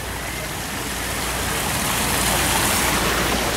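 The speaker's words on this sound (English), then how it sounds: "Look at this bubbling brook." A bubbling brook on Tom Sawyer Island runs in a steady broadband wash of flowing water, constant and fairly close, with no distinct voices.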